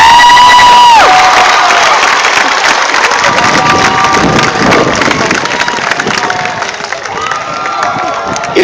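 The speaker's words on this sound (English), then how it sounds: "giving a big round of applause for the graduating class of 2012" Large crowd at the Windsor High School class of 2012 graduation ceremony cheering, whooping and applauding loudly and continuously, with shouts and whistles rising over a dense wash of sound.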